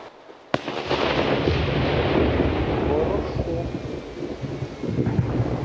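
A sudden sharp blast from the controlled detonation of old Second World War artillery shells at a range gives way to a long, loud rumbling roar that slowly fades, like distant heavy thunder rolling on.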